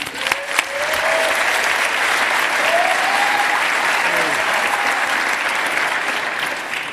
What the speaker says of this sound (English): if you could give him a quick round of applause before he introduces everybody